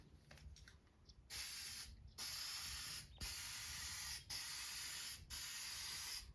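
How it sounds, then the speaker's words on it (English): Rust-Oleum spray paint hisses from a can in five loud, steady bursts of about a second each, separated by short pauses. "let's see how it goes with a good old Rust-Oleum"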